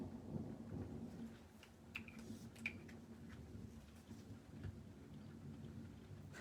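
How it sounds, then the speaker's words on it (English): Distant thunder rumbling low during a storm indoors, a faint sustained roll with a couple of soft cracks and patter, quiet and without speech. "Another bit of thunder."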